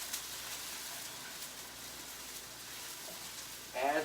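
Carrots for a vegan stir fry sizzle quietly in a pan with an even, continuous hiss, and a brief voice comes in at the very end.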